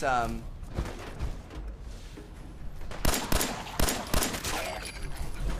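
Shotgun blasts from a legendary shotgun fired at a Deathclaw in Fallout 4, several loud booming shots clustered in the second half amid game noise and a voice talking.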